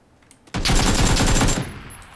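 An UZI submachine gun fires one rapid, loud, close burst of about a second in the video game PlayerUnknown's Battlegrounds, breaking a near silence and then fading with a short tail.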